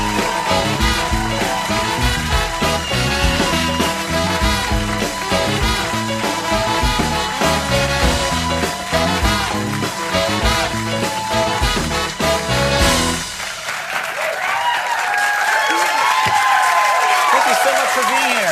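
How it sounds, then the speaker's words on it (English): A studio audience applauds and cheers for Dame Helen Mirren arriving as a guest on a late-night talk show, a dense, steady roar of clapping for about thirteen seconds before music and fainter applause take over. "People cheering, applauding."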